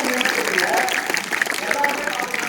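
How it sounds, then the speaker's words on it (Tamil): A room full of people at a government high school in Vikravandi claps together in a dense, steady burst of applause, mixed with some voices. "கைத்தட்டல் கொடுக்கலாமா?"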